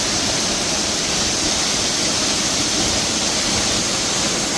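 Powerful waterfall in Matagalpa, Nicaragua roars as a loud, dense, unbroken wash of rushing water, close and constant with no pauses or voices.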